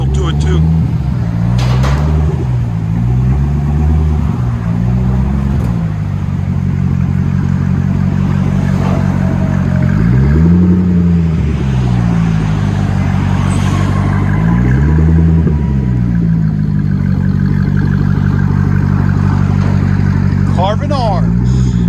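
Chevy Corvette with a 6.0L V8 and Carven R-Series exhaust, idling loud and close with a lumpy rumble and several blips of revving that rise and fall, while someone talks over it.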